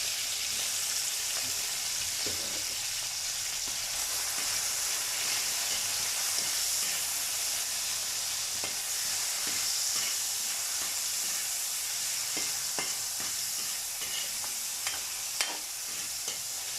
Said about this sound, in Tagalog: Gigisa na tayo ng bawang.